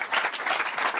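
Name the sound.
audience applause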